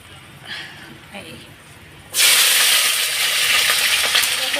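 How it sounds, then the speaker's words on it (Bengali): Chopped vegetables poured into a hot pan of oil with ground tomato, green chilli, ginger and cumin paste, bursting into a loud sustained sizzle after a few quiet seconds of faint kitchen sounds. "তো এখন আমি সবজিগুলো ঢেলে দিই"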